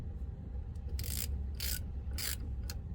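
A socket ratchet wrench turns 13mm bolts on the bearing of a CAT HM418C mulcher, giving several short, faint clicking bursts at uneven intervals over a low background hum.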